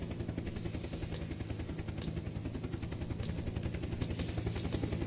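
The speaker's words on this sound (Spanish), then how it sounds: "Escucho un helicóptero" In the video game Unturned, a helicopter flies nearby with a loud, steady, rapidly pulsing rotor chop that fills the whole stretch without talk.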